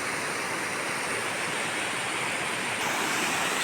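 Melaruvi waterfall at Kanjirappally roars steadily and loudly from close by, a dense, unbroken rush of falling water with no voices.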